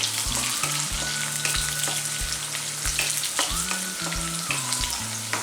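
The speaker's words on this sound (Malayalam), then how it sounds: "ഇനി ഇതിലേക്ക് ഈ വെളുത്തുള്ളി, പച്ചമുളക്, ഇതുകൂടി ഇട്ടൊന്ന് വഴറ്റാം." Garlic and green chillies sauté in a pan for beef pickle, a continuous close sizzle broken by repeated scrapes and stirring strokes, with no voices.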